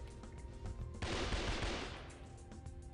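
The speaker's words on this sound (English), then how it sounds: "The gun sounds seem pretty loud though" A loud, close burst of gunfire in Shogo: Mobile Armor Division on PC roars out and fades over a couple of seconds over low game background, with no talk.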